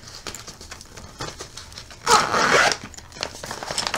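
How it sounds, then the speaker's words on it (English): A nail polish travel storage case is zipped shut in one quick, close, loud zip lasting about half a second, with soft handling rustles before and after. "And then zip it up."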